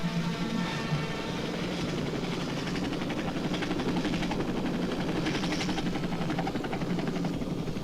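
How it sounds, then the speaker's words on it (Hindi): A helicopter arriving in a 1990s Hindi action film, its steady rotor chop and engine roar continuous and loud throughout, with no speech over it. "आ गया हेलीकॉप्टर।"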